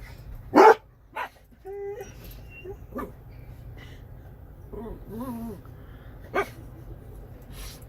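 A dog barking outdoors near a parked truck, a few sharp, close barks spaced irregularly with whimpering yips and quieter sounds between them, over a low background hum.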